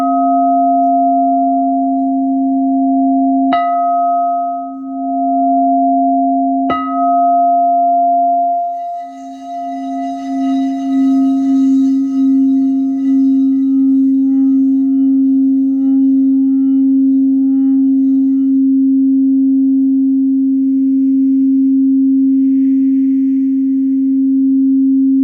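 A meditation singing bowl rings with a steady, sustained hum and bright overtones, struck twice near the start with sharp metallic onsets, then resonating continuously and fading slowly, loud and close with no talking.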